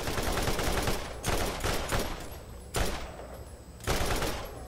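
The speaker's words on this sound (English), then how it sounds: "Pretty sure somebody's shooting at me." Enemy gunfire in the video game Borderlands arrives in dense, noisy bursts of rapid shots, several volleys in a row at steady loudness.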